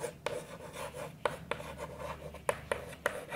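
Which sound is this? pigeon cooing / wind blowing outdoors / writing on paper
writing on paper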